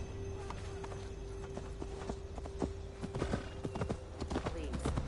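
Horse hooves clip-clopping at a steady riding gait in Assassin's Creed Valhalla, set in an untamed Gloucestershire forest, playing throughout under a sustained game music drone while a voice speaks.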